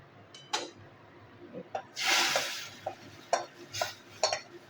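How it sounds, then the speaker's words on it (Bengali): A fried spice tempering with ginger is added to masoor lentil dal with pumpkin greens: sharp intermittent scrapes and clatters of a utensil around a sudden loud burst of sizzling, all fairly close. "ফোড়ন ভাজা হয়ে গেছে। আমি দিয়ে দেবো ডালের মধ্যে,"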